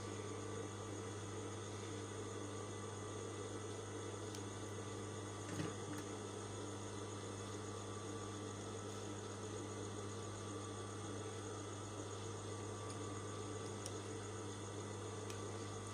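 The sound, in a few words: sewing machine stitching a shirt collar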